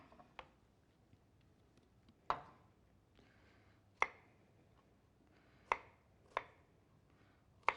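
A knife chopping broccoli on a board: a handful of sharp, irregular chops with short pauses between them, close and fairly quiet, with no talking.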